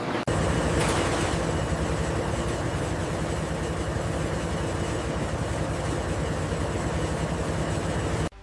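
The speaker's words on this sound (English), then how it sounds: "The destarching machine gently tumbles the freshly molded bears, separating them from the cornstarch for recycling" Continuous mechanical drone of a destarching machine tumbling freshly molded gummy bears through cornstarch in a candy factory, a dense, steady industrial rumble that runs unbroken.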